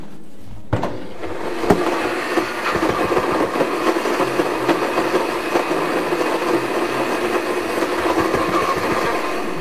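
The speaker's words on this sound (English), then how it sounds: "I'm gonna throw it in the blender" A blender blends whole oranges with the peel on. The motor kicks in abruptly after a brief quiet moment and then roars loud and steady, close by, with a grinding texture to the end.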